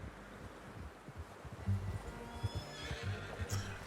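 Horse neighs and clip-clopping hooves in the Western video game Red Dead Redemption 2, a whinny rising over steady hoofbeats and faint wind, fairly close and moderately loud.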